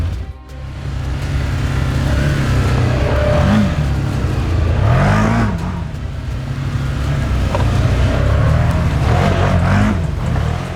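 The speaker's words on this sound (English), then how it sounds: "This is an all new unit for Can-Am for 2025. It is powered by a 1000cc Rotax V twin," The 1000cc Rotax V-twin of a 2025 Can-Am Outlander XTP 1000R ATV drones steadily up close, with repeated rises and falls in revs as it accelerates and eases off over a continuous engine rumble.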